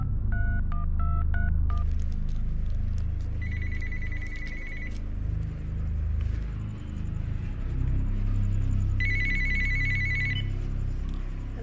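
A telephone rings loudly in an empty room, with short electronic tone bursts repeating in several separate groups over a low background rumble.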